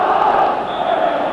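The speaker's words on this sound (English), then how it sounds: "A capacity all-ticket crowd generating a tremendous amount of tension in the air" Football stadium crowd at a capacity all-ticket Hearts v Rangers match, a loud continuous roar of massed voices.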